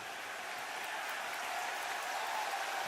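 Broad, steady roar of a football stadium crowd cheering during a Vikings timeout, a dense wash of voices and clapping that holds without a break and swells slightly toward the end.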